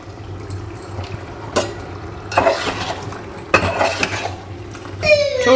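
Mutton liver curry being mixed in a pot, with intermittent scraping and clinking of a metal spoon against the vessel over a quiet, steady kitchen background.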